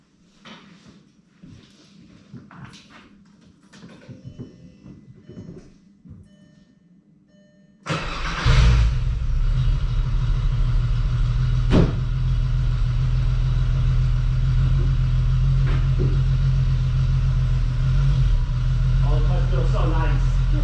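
A Volkswagen Jetta wagon with a 12-valve VR6 engine starts up and then idles loud and close with a steady rumble, after some quieter indoor-sounding knocks and shuffles.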